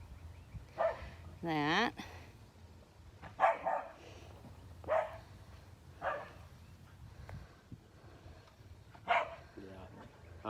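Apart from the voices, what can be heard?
dog barking outside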